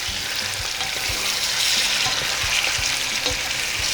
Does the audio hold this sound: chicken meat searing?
yes